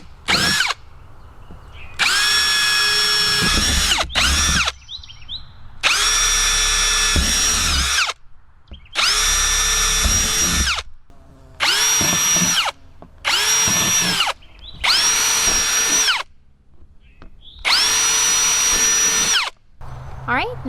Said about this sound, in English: I'm going to be drilling a bunch of holes throughout the bottom and then 2 rows of holes along the top edge